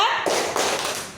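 Students clap a rhythmic pattern in a classroom: a few sharp, close hand claps land in quick succession, fairly loud, with a faint voice in the background.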